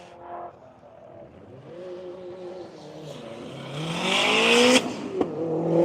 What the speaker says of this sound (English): Bucky Barnes Corvette taking off.